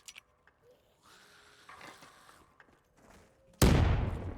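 A grenade goes off in a Der Riese custom zombies map, a single loud, sharp blast after a stretch of quieter game sounds, its burst ringing out and decaying over the last second.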